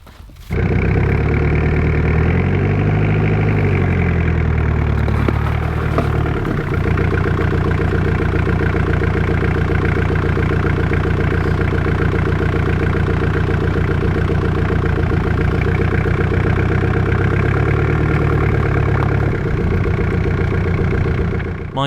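A Jeep engine runs steadily at close range, idling and revving as the vehicle sits stuck in deep, wind-packed winter snowdrifts, with a continuous low rumble throughout.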